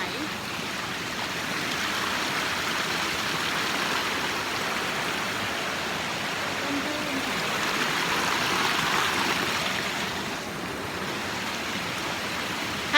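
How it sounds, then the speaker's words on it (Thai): Rushing stream water at Kaeng Hin Phoeng waterfall in Prachinburi, Thailand, a steady broadband roar that stays loud and even throughout with no pauses. "น้ำตกแก่งหินเพิงค่ะ จังหวัดปราจีนบุรีค่ะ"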